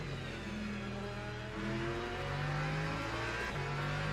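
Race cars lapping Laguna Seca in a racing video game, hypercars and LMP2 prototypes, a steady engine drone with shifting pitch as revs rise and fall, moderately quiet and continuous, no voices.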